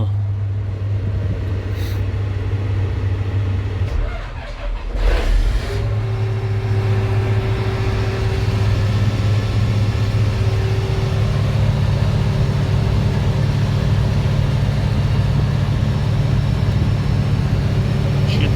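A John Deere tractor engine turning over and catching, then settling into a loud, steady diesel idle as it warms up, with a deep continuous rumble and no speech.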